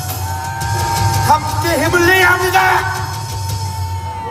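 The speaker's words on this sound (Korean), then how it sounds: "큰 함성과 박수 한번 해주십시오." A crowd roars, whoops and shouts in a steady wash of noise at a patriotic political rally in Korea, with someone talking loudly over amplified sound throughout.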